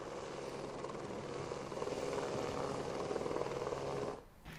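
A helicopter on an aerial gold survey over a village in Chikkabalapur district, India, drones overhead with a steady rotor thrum that swells slightly before cutting off near the end.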